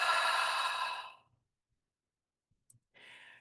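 A slow, breathy open-mouth exhale, like fogging a mirror, drawn out for about a second and fading to silence. A faint second breath starts near the end.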